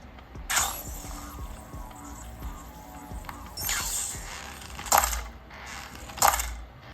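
Soft, low-volume electronic game chimes and clinks from a game controller's built-in speaker sound at intervals, several short bright accents over a quiet mechanical background.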